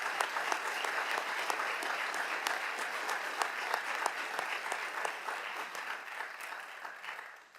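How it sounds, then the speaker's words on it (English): At a school board meeting honouring staff for tenure and retirement, an audience gives a sustained round of applause, a bright, busy clatter of many hands at an even level that tapers off at the very end. "They deserve a big round of applause"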